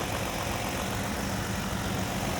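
The 3.4-liter twin-turbo hybrid engine of a 2025 Lexus LX 700h Overtrail runs at a steady idle, a smooth, constant low hum with no talk over it.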